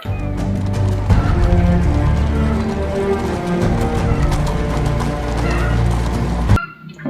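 Several horses gallop with a dense, loud clatter of hooves, and whinnies and neighs rise above it before the sound cuts off abruptly near the end.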